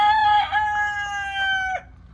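A rooster crows once in a long, drawn-out call close by, loud and clear over a low background hum, then breaks off abruptly, with no one speaking.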